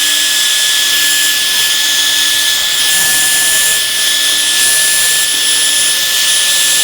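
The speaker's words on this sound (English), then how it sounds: "I'm going to heat up the adhesive on there and try to scrape it off real fast." A heat gun blows steadily while warming the adhesive on a Samsung S22 phone's cover, a constant close whooshing hiss with a faint high whine throughout.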